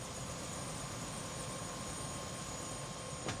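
Helicopter rotor and engine drone from the video game Prey (2017), a steady broadband whir holding at constant loudness throughout with no speech.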